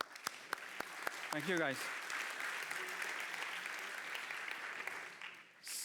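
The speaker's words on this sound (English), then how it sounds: "please give them some applause." Audience applause fills the room at a tech conference talk, a steady dense clapping that starts after a few sharp claps and runs for several seconds, with someone briefly speaking over the start.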